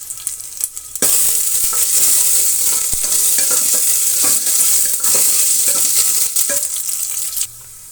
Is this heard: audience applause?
no